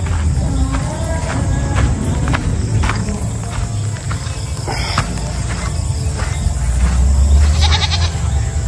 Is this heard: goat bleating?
yes